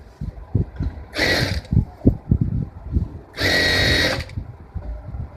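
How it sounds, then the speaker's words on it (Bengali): A sewing machine stitches a seam on a six-panel petticoat in two short whirring bursts, the second longer, with light clicks and fabric handling between them. "সেম ভাবে দ্বিতীয় সাইডটা এভাবে সেলাই করে নিব।"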